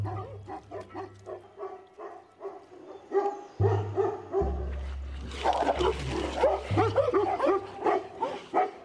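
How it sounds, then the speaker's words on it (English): Several dogs bark and yip at a Tibetan blue bear on the high plateau, a loud, ragged flurry of overlapping barks with whimpering yelps, growing busier and denser toward the end. "Harassed by their barking,"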